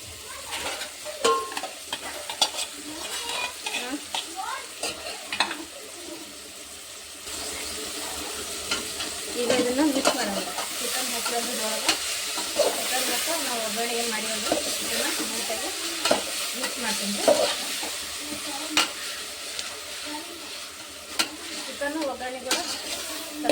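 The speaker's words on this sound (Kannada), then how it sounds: "ಮ್ಯಾರಿನೇಟ್ ಮಾಡಿರೋಂಥ ಚಿಕನ್ನ ಹಾಕ್ತೀನಿ ನೋಡಿ" Marinated chicken fries in a pan, with a steady close sizzle under repeated stirring and scraping strokes that run throughout, growing denser midway.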